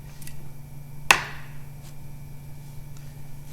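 A single sharp chop through excess clay while trimming a test sample for a consolidation test, one crisp impact standing alone against a low steady hum.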